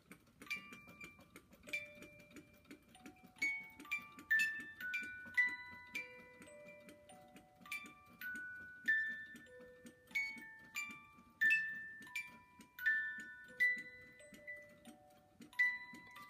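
A music box driven by a walking beam Stirling engine plucks a slow, quiet melody of bright metallic notes, with a soft rhythmic mechanical ticking running underneath.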